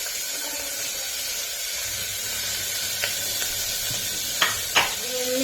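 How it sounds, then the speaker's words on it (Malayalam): Finely chopped large onions frying in coconut oil in a pan for a chicken curry: a steady, close hiss of sizzling with a few sharp clacks of stirring near the end, no voices. "എന്നിട്ട് ഞാനിതാ ചെറുതായി അരിഞ്ഞു വെച്ച ഉള്ളി, വലിയ ഉള്ളി ഇതിലിടുക."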